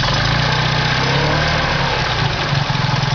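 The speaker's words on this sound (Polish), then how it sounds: "Słychać tak jak bardzo równie pracuje." A Fiat Cinquecento's small engine, fitted with a Fiat 126p carburettor, idles steadily and evenly nearby, a continuous low rumble with a smooth regular pulse and no voices.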